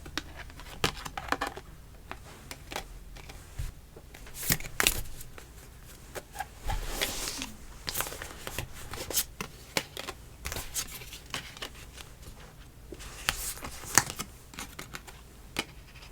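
Tarot cards for a love reading being shuffled and handled, a steady run of soft, crisp riffling and flicking close by, with sharp card snaps scattered throughout and no talking.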